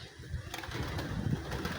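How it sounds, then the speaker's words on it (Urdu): Pigeons coo softly in low, throaty murmurs, repeating throughout against a quiet background hum. "دانے ڈال دیے کبوتر کو"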